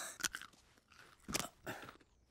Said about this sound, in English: That looks like a particularly crunchy carrot.